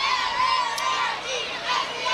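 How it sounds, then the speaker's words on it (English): Crowd cheering and children shouting along a chilly Halloween parade route in Edwardsville/Glen Carbon as a float of cheerleaders passes, a steady, lively roar of many voices with scattered shrill calls throughout. "Oh, there's a cheer for us."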